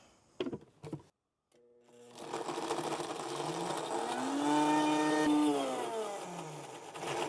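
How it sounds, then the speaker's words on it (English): A kitchen blender liquefies roasted carrots with milk for ice cream. After a few short knocks and a brief pause, the motor whirs up to a steady, fairly loud whine that rises slightly in pitch and then settles, running continuously nearby. "So put the milk in, and then we'll liquefy the carrots."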